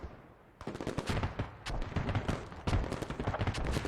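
Mortar impacts and rapid gunfire in the tactical shooter game Squad, dense overlapping shots and blasts in quick bursts after a brief quiet start, loud and continuous with no talking.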